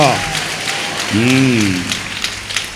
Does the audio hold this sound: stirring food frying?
no